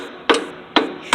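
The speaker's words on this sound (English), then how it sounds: "So I use a punch and" A hammer strikes a punch to drive out the rear axle of a Yamaha Road Star Warrior XV1700 motorcycle, three sharp, close metallic blows spaced about half a second apart.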